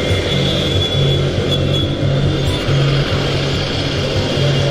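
A motorcycle passes through busy street traffic in Jammu, its engine a loud, close, throbbing drone amid the surrounding rumble of other vehicles.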